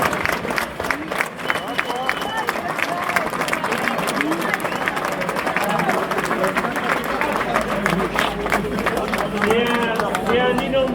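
Crowd clapping for runners and volunteers at an outdoor running race event in Malay-le-Grand, sustained sharp claps layered with crowd babble and speech throughout.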